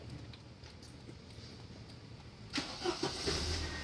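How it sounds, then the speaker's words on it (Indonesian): A 2000 Opel Blazer Montera engine cranks and fires about two-thirds of the way in after quiet background, then settles into a steady, smooth idle heard close by. "Halus mesinnya, bener-bener halus."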